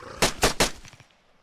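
Three sharp gunshots in quick succession from a disliked weapon in the ArmA 3 Ravage mod, loud and close, each followed by a short decaying echo that fades into quiet.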